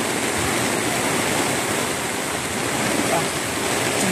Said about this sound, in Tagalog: Hindi na biro to, biglang laki ng ilog. Tapos lakas pa ng ulan.